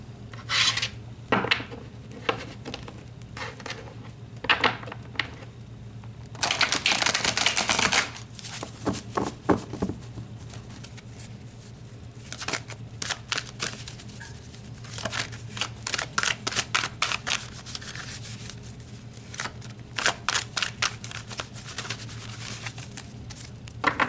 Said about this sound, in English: let's pull some more cards here